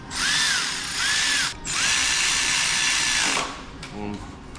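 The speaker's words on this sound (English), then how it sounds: "we will drive our 3 screws, E12, into place" A power drill drives E12 screws into a Mercedes A250 during air conditioning repair, whining in three sustained bursts with rising pitch, then trailing off into faint clicks and handling noise.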